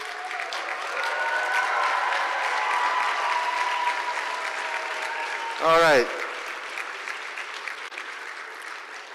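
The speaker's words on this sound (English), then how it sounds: "All right, a round of applause for all the ones." A room of people at a medical school Match Day ceremony breaks into a steady round of applause that carries through the clip, with someone speaking briefly and a short sharp burst near the middle.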